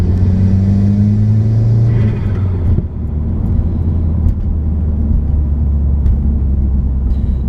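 A Cobb-tuned 2018 Subaru WRX with a big intake and a Boomba blow-off valve, revving to about 3,500 rpm, a loud, close, rumbling engine note that rises and then drops back to a steady, heavy idle.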